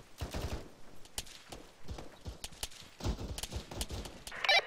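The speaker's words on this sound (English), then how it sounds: "We're taking sporadic rifle fire from the northeast." Sporadic rifle fire in a military video game crackles in irregular sharp bursts, some shots clustered and others spaced apart, fairly faint throughout.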